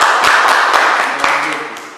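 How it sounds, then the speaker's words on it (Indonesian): Students applaud a student group in a classroom: dense group clapping runs steadily through the whole stretch, with a few sharper individual claps standing out and a faint voice underneath. "Tepuk tangan untuk kelompok B."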